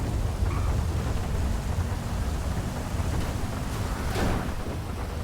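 Rolling thunder in a GTA 5 thunderstorm, a deep sustained rumble with a rain and wind wash, swelling slightly toward the end with no talking over it.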